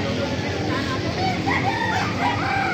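A bulik gamefowl rooster, about one year old, crows at a busy market stall, its call rising over steady crowd noise and nearby talk.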